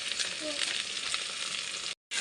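Steady loud sizzling of ginger, green chili and cumin paste frying in hot oil over onions for a thin mutton curry, continuous hiss that cuts out briefly near the end.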